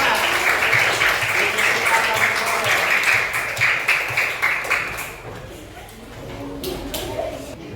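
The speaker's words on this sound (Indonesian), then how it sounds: "Kasih tepuk tangan buat kelompok 2" Audience applause for a student group presentation in a school classroom setting, a dense continuous patter of many hands clapping that fades after about five seconds into room noise and scattered claps.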